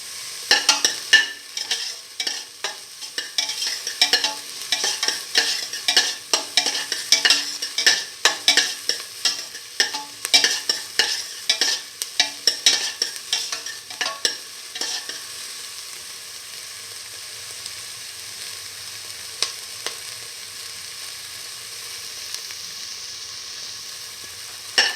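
Chicken neck and fenugreek leaves sizzle in a pan while being stirred, with busy, uneven scraping and stirring over a steady frying hiss that later settles into a calmer, continuous sizzle.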